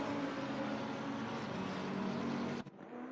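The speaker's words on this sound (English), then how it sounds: "Love the sound of the Lexus too." Lexus RC F race car engine in Assetto Corsa Competizione at Imola, a loud, steady high-revving drone held close for most of the stretch, then cut off abruptly near the end.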